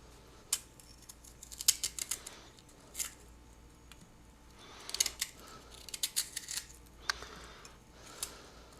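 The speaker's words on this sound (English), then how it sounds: "I like to cut the pear in half and then into quarters" A knife cuts a pear on a cutting board, giving several faint, scattered crisp clicks and slicing taps in a quiet kitchen with no talk.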